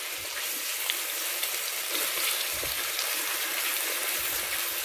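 Chicken breasts browning in a frying pan, a steady, fairly quiet sizzle and crackle of frying with no talking.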